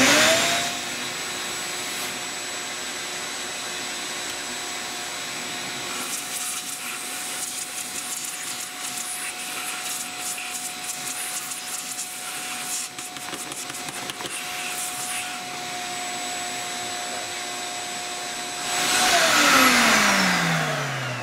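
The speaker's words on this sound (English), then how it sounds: "I'm gonna clean those with the vacuum cleaner" A vacuum cleaner drones steadily for a long stretch with a constant whine while cleaning a pellet stove, its pitch dropping as the motor winds down near the end, then a louder rush.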